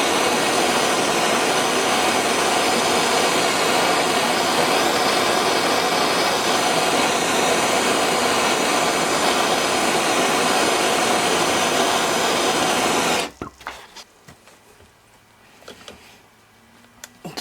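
A heat gun blows hot air onto the stuck bar nut of a Craftsman 2.2 36cc chainsaw, giving a loud, steady roaring hiss that runs unbroken for about thirteen seconds before cutting off, leaving faint clattering handling noises.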